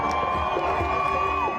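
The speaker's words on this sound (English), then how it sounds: "the massive crowd that packed Hostage Square all night erupts in cheers" A massive crowd packed into Hostage Square erupts in loud, sustained cheering and whooping, a dense roar of many voices filling the space continuously.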